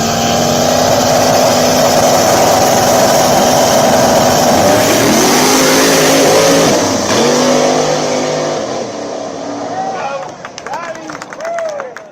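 A diesel drag race car roars past in the left lane at a racing event, a loud sustained engine howl with a pitch sweep as it passes, then fading while people talk and shout.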